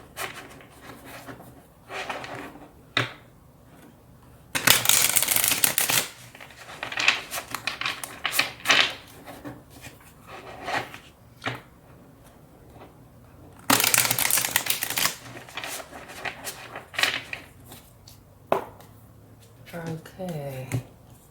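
Tarot cards are shuffled and drawn: two long bursts of riffling, flapping cards, close and loud, with scattered softer card snaps and handling between, while a person talks in the quieter stretches.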